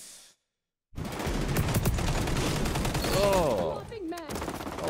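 Rapid automatic gunfire in the first-person shooter XDefiant: a loud, dense string of crackling shots that starts abruptly after a short silence, with a voice briefly heard partway through.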